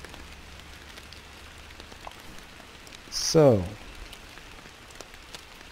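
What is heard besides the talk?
rain falling in the Fishing Planet video game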